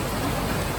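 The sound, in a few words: rainstorm in Stone Town, Zanzibar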